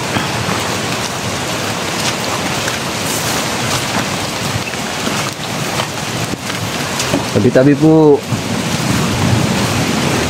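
Floodwater rushes through a forest as a loud, unbroken wash of churning noise that fills the whole stretch, with a brief voice surfacing near the end.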